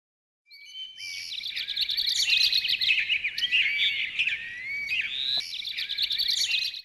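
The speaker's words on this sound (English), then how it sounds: "Birds." Many wild birds in Sunamganj chirp and trill in a dense, overlapping chorus, bright and fairly close, running without pause for several seconds with no voices.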